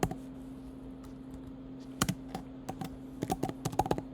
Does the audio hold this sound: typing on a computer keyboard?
yes